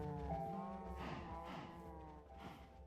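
Cattle in a modded Minecraft world moo with a long, low, drawn-out call, overlapping moos following close behind, fairly quiet and with no voices.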